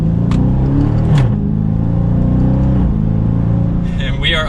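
2021 Dodge Charger 392 Scat Pack in sport mode accelerates with a deep, loud engine roar heard from inside, pitch sweeping as paddle shifts change gear, while someone talks over it.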